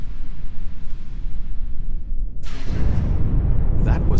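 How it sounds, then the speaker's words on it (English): A heavy explosion in the space game Star Trek Online sets off a deep rumbling blast partway through, swelling into a loud, sustained roar and crackle that lasts to the end. "That was an explosion of sufficient magnitude to cause a breach."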